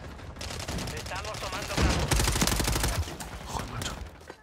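Rapid bursts of gunfire in Modern Warfare III rattle over talking voices, with sharp repeated shots forming a dense, continuous volley.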